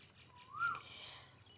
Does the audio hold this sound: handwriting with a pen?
no